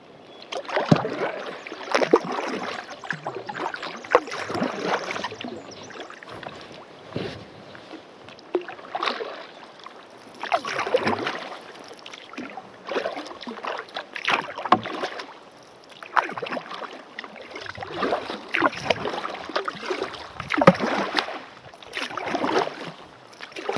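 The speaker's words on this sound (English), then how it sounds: "I'll set this camera up and paddle" Canoe paddling on a flat river in remote Alaska, with repeated soft splashes and strokes in a steady rhythm close by, over light wind and flowing water, with no talking.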